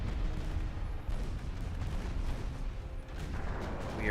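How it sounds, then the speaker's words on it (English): Warship secondary guns firing in the naval video game Ultimate Admiral Dreadnoughts, a steady rumble of repeated booms and distant artillery blasts rolling one after another with no talking. "I'm just going to keep firing the secondaries at ships until we shoot up their torpedoes"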